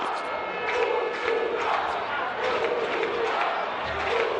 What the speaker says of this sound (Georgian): ტრიბუნაზეც გაისმა უკვე პორტუგალიელი ხომაგის შეძახილი